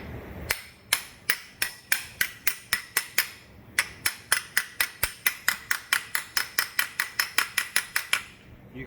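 An axle seal for a junkyard Ford 8.8 rear end is driven in with a hammer striking a flat piece of metal, producing about twenty-five sharp, ringing metallic taps in a steady, close rhythm.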